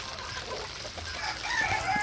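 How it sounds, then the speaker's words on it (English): Chickens and roosters inside a farm coop, a busy close-up mix of clucking and crowing calls layered over each other, with no talk. "I found a bunch of different chickens in my coop here with them"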